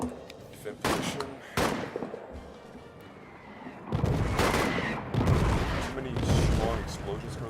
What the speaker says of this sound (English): Explosions currently going on right now as we speak.